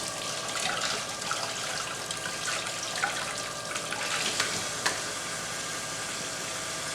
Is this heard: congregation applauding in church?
no